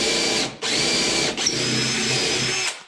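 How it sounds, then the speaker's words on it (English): A power drill bores pilot holes into small pieces of wood during a homestead project in bitter cold, whining steadily and loudly with two brief stops in the motor, close up and without talk. "When I'm working with small pieces of wood like this, I like to pre-drill everything."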